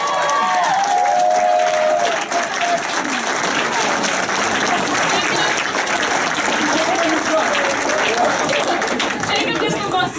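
An audience applauds at a gathering where people are being called up and recognised, with a sustained, loud wash of many hands clapping from start to finish, mixed with crowd murmur and a voice speaking over it near the start.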